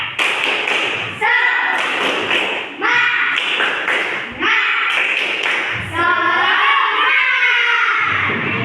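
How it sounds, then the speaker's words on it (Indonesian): Fifth-grade schoolchildren in a classroom perform a rhythmic clapping chant, sharp unison claps alternating with loud shouted group vocals in repeated bursts, close and energetic. "Supaya kita lebih semangat lagi, kita tepuk semangat ya."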